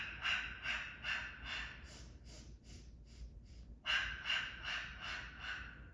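Rhythmic breathing during the Pilates hundred exercise, with legs held vertical: a steady run of short, airy inhale and exhale pulses at close range, pausing briefly mid-clip before the pumping breaths resume.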